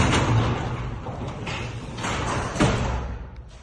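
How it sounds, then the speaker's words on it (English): A residential garage door is lowered by hand during a repair, giving a steady rolling rumble with a couple of clunks as the panels travel down. No one talks. "So you can just bring your door down."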